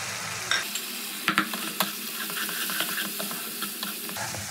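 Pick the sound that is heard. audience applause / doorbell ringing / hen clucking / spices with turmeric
spices with turmeric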